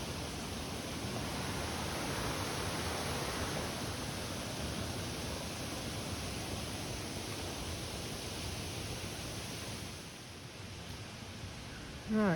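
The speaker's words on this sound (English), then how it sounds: "I've just crossed the waterfall" A waterfall at Roche Abbey gives a steady, close rushing roar of falling water that fills the whole clip, dipping a little near the end.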